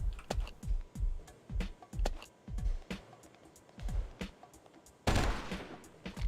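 Gunfire in the PC game Oni, Anniversary Edition: a rapid run of sharp, punchy shots in quick bursts, then a louder, denser blast near the end, with no talking.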